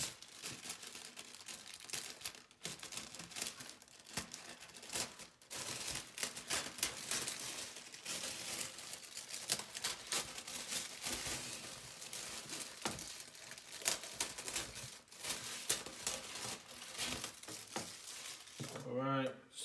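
Scissors snip and crinkle through loose plastic shrink wrap around a boxed trading card product, a busy, continuous run of crackling plastic and rustling close by, with a brief pause partway through.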